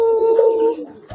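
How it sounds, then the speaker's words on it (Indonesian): A white pigeon's low, drawn-out coo sounds close by, steady for about a second before fading, with a faint thump at the end. "2 merpati putih"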